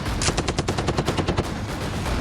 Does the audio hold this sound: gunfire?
yes